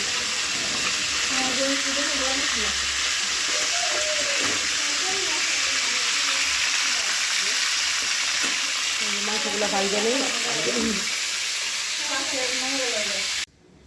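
Bay leaves and garam masala fry in hot oil for a roast, giving a steady, loud sizzle that runs almost the whole time, with a voice speaking over it at intervals and a sudden drop near the end.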